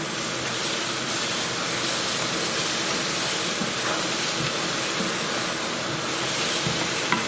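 Chicken tikka masala being stirred in a pan gives a steady, dense sizzling hiss like rain, with a few soft scrapes near the end and no voices.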